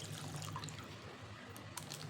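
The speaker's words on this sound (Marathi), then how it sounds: "त्यामध्ये आता पाणी घालायचं आहे" Water is poured over washed rice in a bowl, a soft brief trickle and splash that stays quiet and close.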